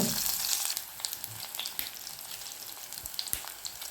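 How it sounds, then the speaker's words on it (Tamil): Onions and dal mixture sautéing slowly in a pan over a low flame, giving a steady, soft sizzle with scattered crackles and pops, close by, with no talking. "இது நல்லா வதக்கிக்கலாம் நல்லா சிம்மில் வச்சு பொறுமையாக வதக்கிக்கோங்க"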